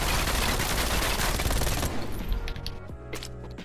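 Rapid MAC-10 submachine gunfire in the shooter game Call of Duty Cold War, a dense continuous burst that cuts off near the end, leaving scattered clicks and shorter game sounds.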